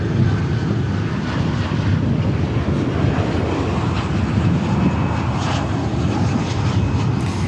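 British Airways Airbus A380 jet airliner at Dallas Fort Worth Airport, giving a loud, steady jet engine roar with some wind buffeting on the microphone.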